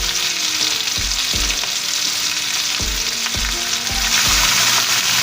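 Smothered potatoes frying in a pan give a loud, steady sizzle with a few sharp knocks and scrapes of a utensil, no voices.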